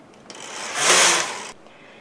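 A knitted piece is pulled off a knitting machine, giving one smooth, breathy rushing scrape that swells over about a second and then fades, with faint quieter rubbing before and after.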